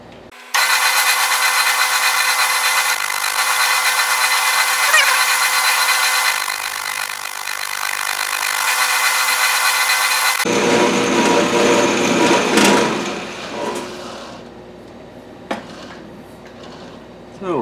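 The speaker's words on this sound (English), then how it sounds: "I'll get busy and bore this little hole to the right size" A small hole is bored in a steel part for a Grizzly spindle power feed, a loud, steady high-pitched machining whine for about ten seconds that then gives way to quieter scraping and clinking of the tool.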